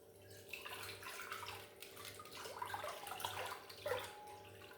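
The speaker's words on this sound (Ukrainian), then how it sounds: "Виливаю цю водичку з дрожжами в миску." Yeast dissolved in water pours from a container into a large mixing bowl for whole-grain bread dough, a faint, continuous splashing trickle with small gurgles, heard close and alone.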